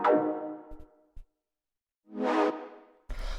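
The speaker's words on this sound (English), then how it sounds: "The first thing that we've got going on here would be these chord stabs" Two short minimal tech house synth chord stabs with a gap of silence between them, each bright and decaying quickly, followed by a thump at the end.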